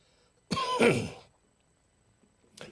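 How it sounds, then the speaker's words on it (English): A single harsh throat-clearing cough, close and fairly loud, followed after a pause by a brief shorter rasp. "it's getting where I can't quit coughing now"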